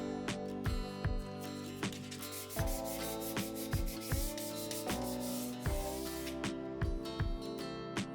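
Rhythmic back-and-forth wet sanding of a 1:144 Boeing 757-200 model airplane, with a squeaky, wet scrubbing tone and regular strokes about twice per second.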